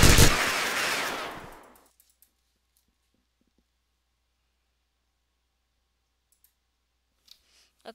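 A video-game minigun fires one rapid, continuous burst for about two seconds that spins down and fades, followed by near silence with a couple of faint clicks.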